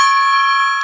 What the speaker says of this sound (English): I'm trying to figure out the perfect gong motion